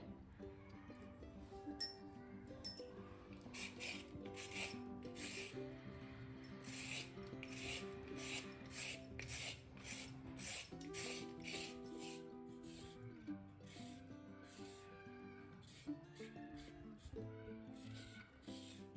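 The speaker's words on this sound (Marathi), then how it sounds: "गाजरचे साल काढून घेऊ पहिले सगळे।" Carrots are peeled for gajar ka halwa, with soft, repeated scraping strokes in a quiet kitchen, close and faint, with a few sharper clicks near the start.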